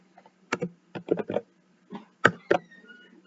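Keys on a computer keyboard are struck in short irregular bursts of crisp clicks, a few quick taps grouped together with brief pauses between, close and clear against a faint steady hum.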